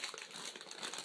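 A sealed plastic bag holding a LEGO Technic L-motor crinkles steadily through a short handling moment, close and dense with small crackling textures and no speech.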